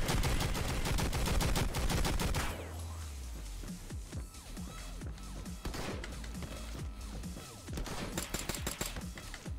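Gunfire in the Madness Project Nexus video game: a dense rapid volley of shots at the start, then scattered shots and impacts continuing over game sounds, loud and close.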